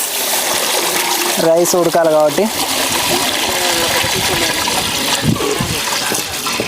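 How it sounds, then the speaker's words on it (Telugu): Water poured into a pot on the stove for boiling rice for chicken dum biryani, a splashing gush under a person speaking, with a brief rising gurgle as the pot fills. "నీళ్ళు పోసుకుందాం."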